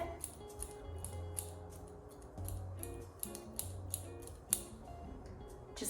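Scissors point-cut someone's own hair into layers, giving a close series of crisp, irregular snips and ticks in a quiet room.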